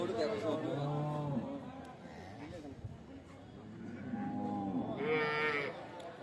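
Cows at a village cattle market selling Holstein Friesian dairy cows, several loud drawn-out moos close by with crowd chatter and voices in the background.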